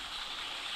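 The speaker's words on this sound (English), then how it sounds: "our first major brook crossing of the trip" A mountain brook on the way up Mount Mitchell and Mount Craig in North Carolina rushes past, a steady, close hiss of flowing water with no voices.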